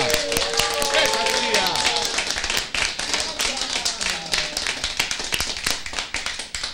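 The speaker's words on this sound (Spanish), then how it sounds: "Un fuerte aplauso para Anta." Audience applause for Anta at a Hatun Llaqta event, sharp individual claps forming a crowd's clapping, with voices and cheers over it early on before the clapping carries on alone.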